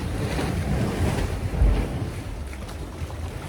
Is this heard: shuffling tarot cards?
no